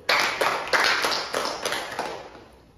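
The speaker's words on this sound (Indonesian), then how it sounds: "beri tepuk tangan untuk Bapak Ferdi" A small group claps briefly in a group therapy session, a few soft, irregular bursts of hand claps that fade out over a couple of seconds.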